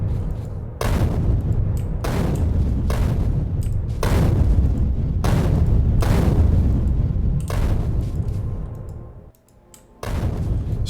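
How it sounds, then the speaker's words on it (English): Grenades in the video game Factorio exploding while clearing trees, a run of about seven heavy booms in quick succession, loud and close, with a short quiet gap near the end before one more blast. "Grab some grenades. Get rid of these trees."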